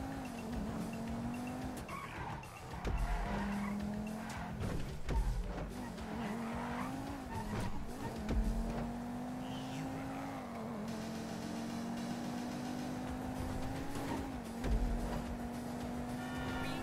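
A car in the video game Grand Theft Auto 5 drives hard with a droning engine that rises and falls, broken by repeated tire squeals and skids, loud and up front throughout.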